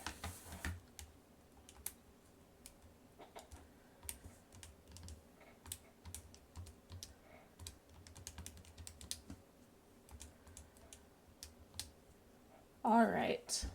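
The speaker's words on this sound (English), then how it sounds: "in my calculator, I'm going to type all of this in" Keys pressed on a calculator keypad in a run of quick, light clicks at irregular intervals, close by and fairly quiet, with a louder burst of handling noise near the end and a faint voice in the background.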